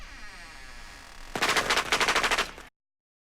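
Firecrackers set off at the door, a rapid string of sharp, loud cracks bursting for about a second and a half after a stretch of quiet room hum, then cutting off abruptly.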